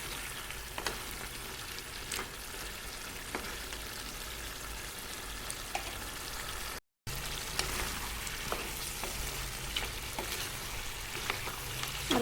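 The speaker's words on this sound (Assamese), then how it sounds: "আৰু এনেকৈ ভাজি থাকিব।" Potatoes frying in a pan for an Assamese-style local chicken curry, a steady close crackling sizzle that runs throughout with a brief dropout partway, no voices.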